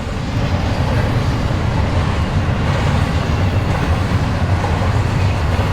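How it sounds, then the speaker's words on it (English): A freight train rumbles past close by in the desert, a steady, loud low roar with faint rhythmic clatter throughout. "This train is coming from Yuma"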